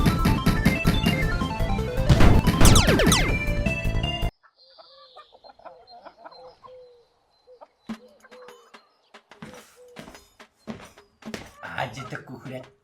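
A chicken in a Unity-made video game clucks in short, scattered bursts after a loud burst of music cuts off, with sparse thuds in between.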